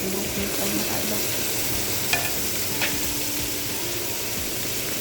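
Onions and tomatoes frying in a pan give off a steady, close sizzle for a rice kabsa, with soft stirring scrapes and two brief utensil taps partway through.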